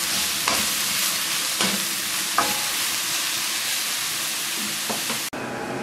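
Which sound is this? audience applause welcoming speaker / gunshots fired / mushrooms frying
mushrooms frying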